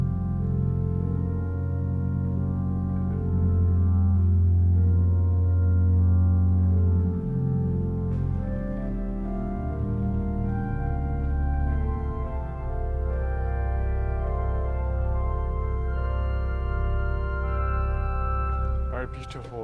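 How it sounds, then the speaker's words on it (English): Combined flute stops on the pipe organ at Old St. Patrick's Cathedral in New York City, sustained chords and slow-moving notes held steadily and fairly loud, ringing in a large resonant space with no talking. "If we combine these, we get a very wonderful flute sound."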